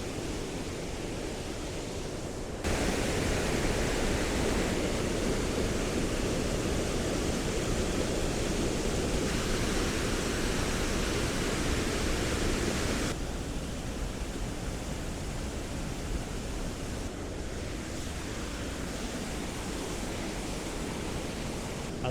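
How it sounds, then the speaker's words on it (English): Hollybush Spout waterfall on the Ingleton Waterfall Trail, a steady, loud, broadband rush of falling water that swells close up partway through, then eases back a little, with no talking. "waterfall number 2 is here, and this is Hollybush Spout"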